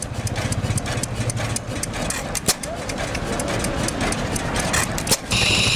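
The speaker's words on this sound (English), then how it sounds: "Notice how the engine just hits every few licks, and that flywheel's doing the work." An antique flywheel engine drives a cane grinder, firing only every few beats while the heavy flywheel carries the load, giving a loud, steady, chugging mechanical rhythm with clanks, heard up close under someone talking.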